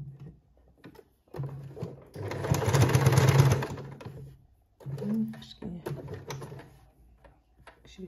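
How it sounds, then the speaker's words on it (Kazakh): A sewing machine runs a line of stitches along the edge of a patchwork quilt piece, one steady mechanical burst of rapid whirring near the middle, with quieter handling noises before and after. "Осы лапканың бойымен бір тігіс жүргізіп шығамыз."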